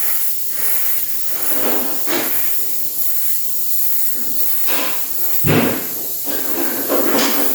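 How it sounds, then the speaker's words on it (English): Spray paint can hissing in several short bursts of thin red paint on a small 1/6-scale figure's tip, fairly close and steady, without talk. "I'm going to spray away from,"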